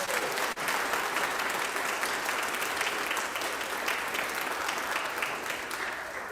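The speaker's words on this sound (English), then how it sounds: "let's give them all a round of applause" Church congregation applauding the membership team, a dense, continuous wash of clapping that holds steady for several seconds and gradually eases toward the end.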